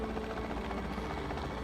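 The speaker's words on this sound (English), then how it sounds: "Here we're just going to take a little helicopter tour of Bracky Valley." A helicopter in Jurassic World Evolution 2 gives a steady, low, pulsing rotor thrum, continuous and moderately loud with no talking.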